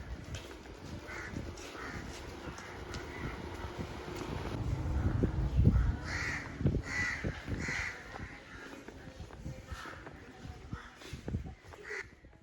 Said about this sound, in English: The air is filled with the calls of crows and other birds